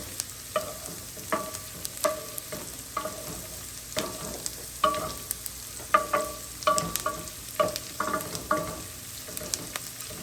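Garlic and onions sizzle in a pot for a one-pot tortellini with Italian sausage, a steady frying hiss broken by frequent sharp scrapes and clinks of stirring, close and fairly loud, with no talking.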